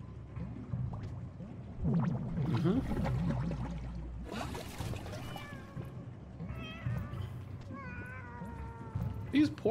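Cats meowing in a video game, several rising and falling meows in quick succession, mostly in the second half, mixed with other game sounds and a voice talking over them.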